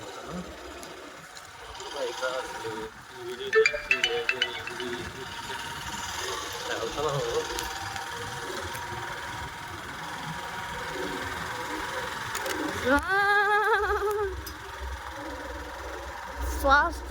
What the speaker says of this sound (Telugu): ఇప్పుడు కొండ బైక్ వెళ్తున్నాం